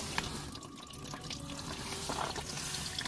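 Coolant drains from the radiator of a Toyota MA70 Supra, a continuous trickling, splashing flow of liquid heard up close at a low, steady level without speech.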